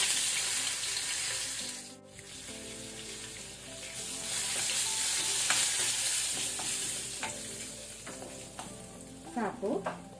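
Hing, curry leaves and dry red chili sizzle and crackle in hot oil for a tempering, a steady frying hiss with stirring scrapes and a few sharp pops near the end.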